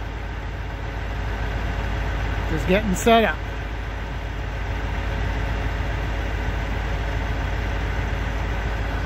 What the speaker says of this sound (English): It runs off the truck engine.